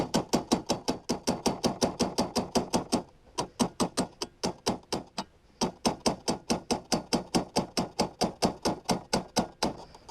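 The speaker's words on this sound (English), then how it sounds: "Someone right now watching is just cringing at me hitting this tool with a hammer." Rapid, loud metallic strikes of a hammer on a wrench while freeing parts of a rotting 1970s Yamaha snowmobile, a steady rhythm of sharp close blows with two brief pauses.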